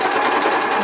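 Sewing machine stitching a fabric crochet hook roll, a fast even mechanical whir running close and alone.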